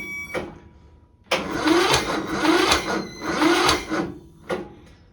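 A Kohler Courage 20HP small engine cranks over on its starter in a few short bursts. The rhythmic chugging turnover is close and fairly loud, and it does not catch.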